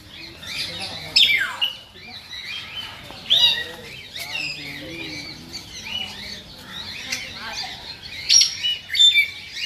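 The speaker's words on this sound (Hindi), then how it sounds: "मैना ऊपर है वो देखो" A myna bird calling at Lucknow Zoo, loud bursts of squawks, chirps and harsh whistles repeating irregularly at close range, with voices heard faintly among the calls.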